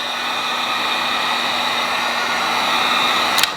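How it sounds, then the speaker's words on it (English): A heat gun blows hot air over vinyl wrap on a Tesla Model 3 side mirror, giving a loud, steady, close-up rushing whoosh with a faint hum that cuts off abruptly at the end. "and then we're going to take our heat gun"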